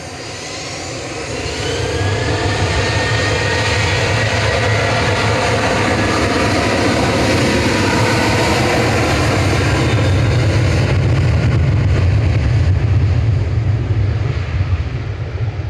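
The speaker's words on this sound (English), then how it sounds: "Ryanair going next to Belfast. This is GRUKM" A Ryanair Boeing 737-800 jet departing an airport for Belfast rumbles loud and near, its engine roar swelling after a couple of seconds and holding strong with a deep low growth before easing slightly at the end; no voices.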